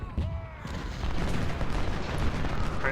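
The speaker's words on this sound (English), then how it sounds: "After another barrage by these, we push the cannons up closer." A cannon barrage in the Civil War video game Ultimate General: Civil War booms and rumbles in dense overlapping volleys, a continuous loud roar of artillery with scattered gunfire.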